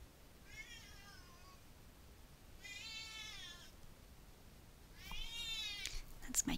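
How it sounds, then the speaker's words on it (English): A pet cat meows three times in slow succession, clear and fairly close over a quiet background, each call drawn out with a rising-falling tone. "That's my kitty again."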